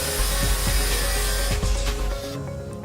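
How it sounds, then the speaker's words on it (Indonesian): A table saw cuts a wooden board into two pieces, a steady loud whirring hum under the rasp of blade through wood, easing off as the cut finishes and the motor winds down. "Aku menggunakan table saw, dibagi menjadi dua bagian, dipotong sampai selesai."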